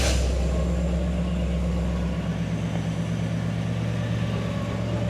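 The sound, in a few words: 1963 Chevrolet Impala SS 409 V8 engine starting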